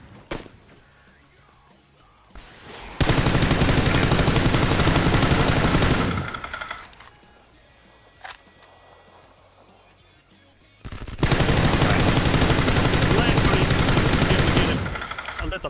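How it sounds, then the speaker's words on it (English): Sustained bursts of automatic gunfire in a video game shootout, two long loud volleys separated by a quieter pause with a single shot, close and dominant. "Stop shooting at me!"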